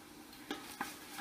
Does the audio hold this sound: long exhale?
no